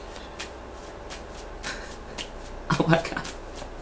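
Tarot cards being shuffled by hand for a love reading, a brief burst of papery riffling near the end, close and moderately loud, with a voice speaking briefly.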